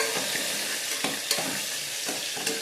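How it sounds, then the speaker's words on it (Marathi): Tomatoes, curry leaves and mint being stirred and fried in oil in a pan for vegetable pulao, a steady close sizzle broken by several regular scraping stirs, no talk. "टोमॅटो टाकायचे. कढीपत्ता टाकायचा. पुदिना टाकायचं आहे. चांगलं हलवून घ्यायचं."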